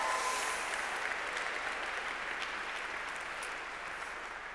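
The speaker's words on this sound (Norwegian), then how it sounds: "Jeg synes vi kan gi en god applaus til møtelederen." An audience at a meeting gives the meeting leader a round of applause, a continuous wash of many hands clapping that is loudest at the start and tapers gradually.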